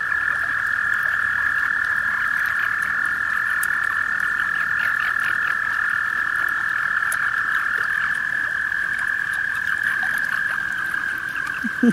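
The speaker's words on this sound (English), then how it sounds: "Toads everywhere." Many toads croak together in a dense, steady, loud chorus of continuous trilling that lasts throughout, with no voices.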